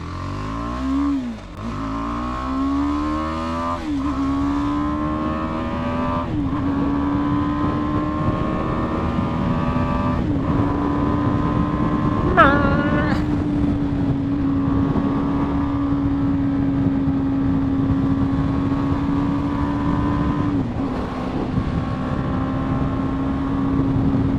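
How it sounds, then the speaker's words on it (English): A 2020 BMW G 310 R beginner motorcycle pulls away from a standing start, its engine revving loud and close and climbing in pitch through several gear changes, then holding a steady drone. "standing start here, 0 to 60"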